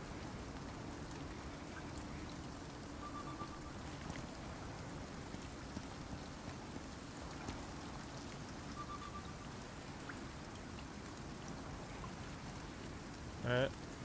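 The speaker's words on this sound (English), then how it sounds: "And it's raining too." Rain falling in the survival game Icarus, a soft, continuous hiss of drops that stays even and quiet from start to finish, with a brief louder knock near the end.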